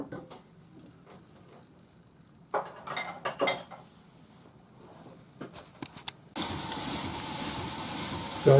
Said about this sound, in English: So I've just put it in my rotary tumbler, and I'll give it about half an hour.